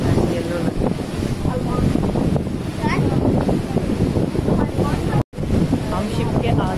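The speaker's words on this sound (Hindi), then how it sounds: "और यहाँ तो बहुत ही ज्यादा हवा चल रही है" Strong wind roars across the front deck of a ferry sailing among the islands off Gothenburg, Sweden, buffeting the microphone with loud, continuous rumble and gusts, broken by one brief dropout near the end.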